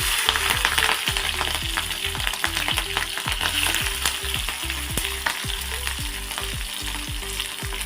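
Steady loud sizzling of cumin seeds and green chillies frying in hot oil, with a dense crackle and occasional sharper pops throughout, no voices.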